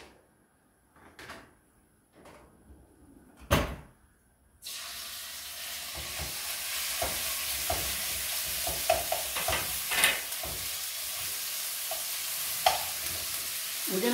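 Beef sizzles and fries in a pan after a few sharp knocks and clatters of utensils, then a steady loud hiss carries on with scattered scraping and stirring noises, no voices heard.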